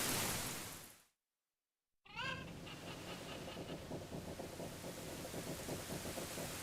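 Steady rain falls in the video game Zelda: Ocarina of Time. It returns after a brief silent gap as a constant, dense wash with faint rumbling beneath.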